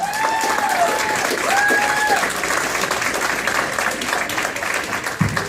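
A comedy club audience applauds and cheers as a comedian is introduced, with dense, steady clapping and a few whistles rising over the crowd noise.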